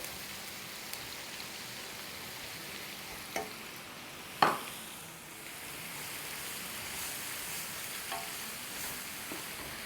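Onion paste frying in a pan for chicken malai handi gives a soft, steady sizzle with an occasional sharp clink of a spoon against the pan, and no voices.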